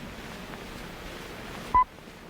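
A single short, pure electronic timing tone beeps once near the end over a faint hiss, a clean isolated blip from a 1973 science film about magnetic effects in space.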